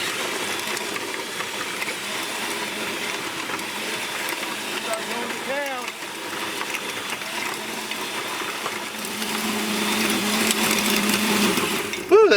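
A corded electric yard tool runs continuously while leveling ground for a greenhouse site, giving a steady mid-level motor drone with slight variations in load and a voice speaking over it at times.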